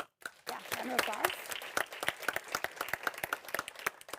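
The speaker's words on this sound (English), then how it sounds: "Yeah, round of applause." Audience applause at a policy event on financing the early years, with scattered sharp claps forming a moderate, uneven round of clapping from a gathered crowd, fairly close and steady for several seconds.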